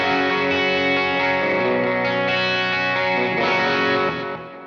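Electric guitar played through a Morgan amplifier rings out as loud, distorted sustained chords with a shimmering chorus-like tone, then fades out at the end.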